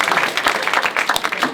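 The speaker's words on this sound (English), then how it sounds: "clap it up if you're in a relationship tonight" A comedy club audience claps loudly and continuously at a stand-up show, a dense, close burst of applause with no voices over it.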